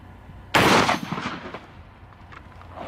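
One shotgun shot fired outdoors through a rifled choke, a single sharp loud blast at close range followed by a short decaying echo and faint background noise.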